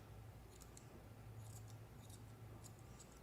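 Scissors snip hair around a dog's toes and foot during grooming, with several quick close bursts of cutting over a steady low hum.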